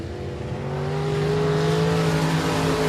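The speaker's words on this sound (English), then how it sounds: "As we roll him off a full throat down Main Street into 1." A dirt track race car in a time trial accelerates at full throttle, its engine note a loud, sustained drone that climbs slowly in pitch as the car pulls away, close and steady with no talk over it.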